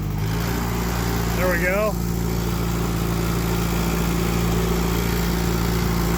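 A classic tractor engine runs close and loud at a steady idle, its even low rumble unbroken while someone briefly speaks over it.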